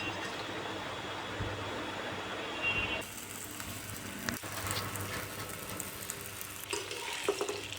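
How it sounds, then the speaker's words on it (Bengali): Potatoes coated in food colouring frying in hot oil, a steady close sizzle that runs throughout with some stirring and a brief clatter partway through. "আলুগুলো আমি ভালো করে ফ্রাই করে নিব"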